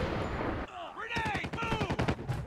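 Gunfire in the COD Mobile video game rings out as a rapid burst of automatic shots, loud and close, with a voice talking over the game sounds.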